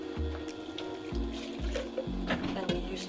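Water runs from a tap into a pot of Sardinian fish stew with tomato sauce aboard a sailing boat, a close, trickling pour broken by short gurgling bursts, with a low hum beneath.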